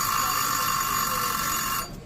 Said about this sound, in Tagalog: So, magri-ring siya para i-remind tayo na enough na yung oras na sinet natin sa kanya.